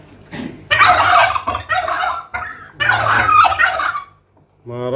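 A bronze turkey gobbles in several loud, close rattling bursts with short pauses between them.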